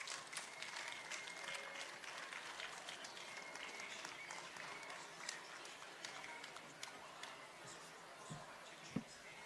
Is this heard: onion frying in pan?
no